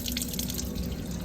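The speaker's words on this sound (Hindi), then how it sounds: "माशाल्लाह चिकन को अच्छे तरीके से धोया जा रहा है।" Tap water runs and drips steadily as raw chicken is washed in a sink, a close, continuous splashing wash with no voices.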